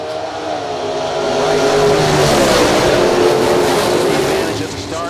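A high-revving 2000 Chevrolet S10 hot rod launches down a drag strip at a racing event, a loud engine roar swelling and fading over several seconds under an announcer's voice.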